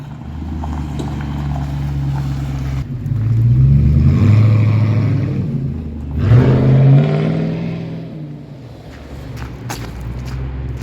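Toyota 4.7-litre V8 with a full 3-inch straight-pipe exhaust driving by, a deep rumble swelling twice as it revs and passes, loud and then fading.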